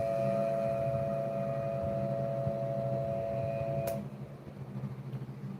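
A steady, high-pitched dual-tone siren imitating a Whelen digital siren controller, made with an online tone generator, holds two close sustained pitches alone for about four seconds and then cuts off.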